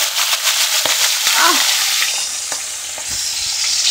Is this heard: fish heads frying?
yes